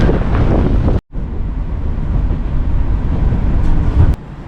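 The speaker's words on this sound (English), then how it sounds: "The wind is kicking up." Strong wind buffets the microphone in a steady roar outdoors in Moscow near a church, cutting out briefly near the start before resuming loud and continuous.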